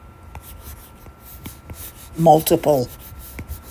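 A stylus sketches on a tablet with quick, soft scratchy strokes in short bursts, near and quiet; someone briefly speaks in the middle.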